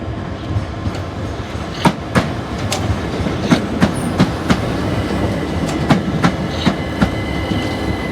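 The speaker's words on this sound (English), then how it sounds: "approaching now is the Terminating Southern service from Red Hill with 377325 returning" A Southern class 377 electric unit, 377325, rolls in at Tonbridge station. Its wheels give a steady clickety-clack of evenly spaced rail-joint knocks over a constant rumble, heard close and alone without talk.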